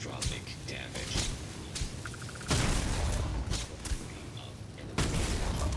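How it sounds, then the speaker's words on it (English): Repeated weapon fire in the space game Starfield comes in loud, dense bursts with booming impacts and a couple of sharp surges, mixed with game effects and a voice talking over it. "I am opening fire"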